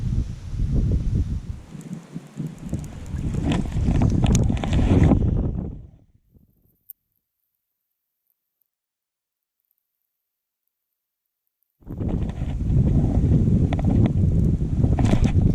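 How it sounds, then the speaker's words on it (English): Strong wind buffets the microphone while bass fishing on muddy water from a boat, a loud rushing roar that cuts out into silence midway and then returns just as strong. "letting this wind blow me"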